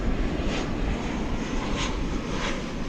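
Jet airliner engines at DFW Airport roar in a steady, broad, loud drone that stays constant and slightly pulsing throughout, with no voices.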